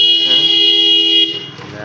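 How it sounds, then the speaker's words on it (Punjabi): A milkman's motorcycle horn honks in a steady, loud blast on a foggy winter morning in a village, holding for over a second before dropping off into quieter background. "ਹਜੇ ਦੁੱਧ ਦੇ ਹਾਰਨ ਮਾਰਦਾ ਪਿਆ"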